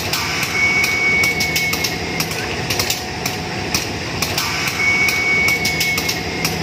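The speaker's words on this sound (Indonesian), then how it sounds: "Bisa didengar, mas ini sepertinya sedang melakukan pengereman ini." Brakes are applied on the KA Probowangi passenger train after a sudden stop just past departure, heard from on board as a steady loud mechanical rumble with two thin, high whining squeals.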